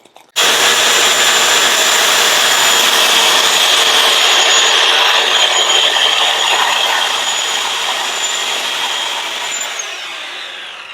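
A power saw rips through toy hauler flooring in one long continuous cut, loud and close, a steady high whine that starts abruptly and tapers slightly toward the end.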